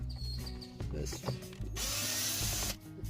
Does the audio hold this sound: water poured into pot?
no